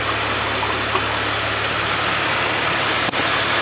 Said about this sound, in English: Car's running.